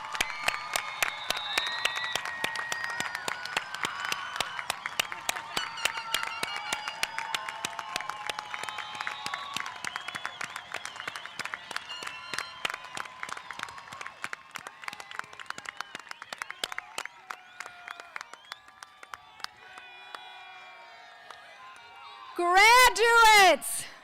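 A commencement crowd for the class of 2024 claps and cheers in a long, dense roar of applause that gradually thins out, ending with a burst of louder sound.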